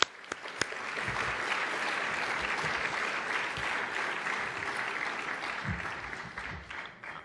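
Sustained audience applause at a political campaign awards conference, steady dense clapping filling the room for several seconds with a few sharper claps near the start and louder claps toward the end.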